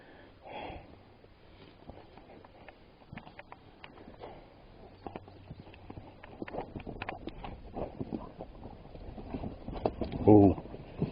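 Tired horses walking on an elk scouting trip in eastern Idaho, hooves clip-clopping irregularly with snorts and rustling, growing louder toward the end, with people talking nearby.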